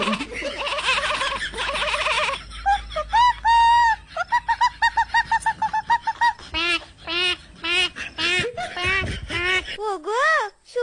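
Animated farm chickens and ducks cluck and squawk in a cartoon. Loud, rapid bursts of short, bouncy calls come in a quick, uneven series, some sounding like voiced imitations.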